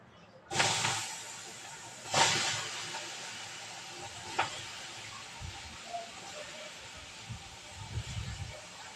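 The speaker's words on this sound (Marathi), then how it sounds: "आता मी हे बटाटे तव्यात टाकते" Potatoes dropped onto a hot tava griddle for a fasting-day khichdi set off a loud, steady steam-like hiss that holds throughout, broken by a few sharp knocks and clatters.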